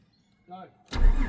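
A Holden VR Commodore with a wrong firing order cranks briefly, then catches with a rough, loud, uneven burst that runs to the end, with a voice heard briefly before it.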